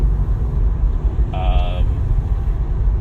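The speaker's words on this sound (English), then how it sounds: "I don't even know if you guys can hear me with the background sounds of the car going." Steady low road rumble and engine drone fill the inside of a moving car, continuous and fairly loud throughout, with a short buzzing tone rising briefly in the middle.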